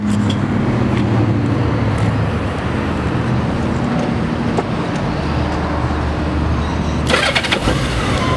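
A 2003 Honda Goldwing GL1800 trike with a Roadsmith kit starts up and settles into a steady idle, loud and close, with a brief burst of rattling near the end and no talking.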